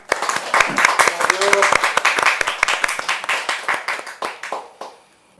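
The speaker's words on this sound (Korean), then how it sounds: "박수로 청해 주십시오" A smaller audience claps at a talk event before a piri performance, with distinct, sharp individual claps forming a steady burst that thins out and stops, and a brief voice partway through.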